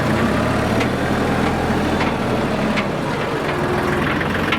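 A tractor engine runs steadily and close at a tree-planting site, a continuous loud rumble with no talk over it.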